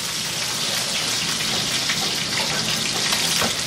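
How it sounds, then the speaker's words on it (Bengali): Fish fried in oil in a pan, a steady dense sizzle that holds at an even level close to the pan with no talk over it. "একদম এরকম বাদামি করে ওই পাশটা ভেজে নিবে। আরো 4-5 মিনিট ভেজে এগুলো হয়ে গেছে।"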